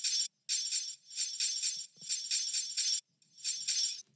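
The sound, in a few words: deep glass tambourine loop in a music track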